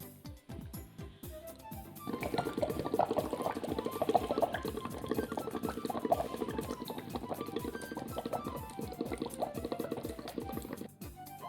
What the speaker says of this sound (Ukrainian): Подмухаємо у соломинку і подивимось, що буде відбуватися.